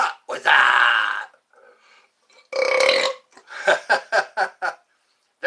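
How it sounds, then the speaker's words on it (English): Several loud, throaty burps from a woman after drinking Coca-Cola, a long drawn-out one followed by another and a quick rhythmic series of short belches, mostly alone with brief quiet gaps. "Those are Coca-Cola burps."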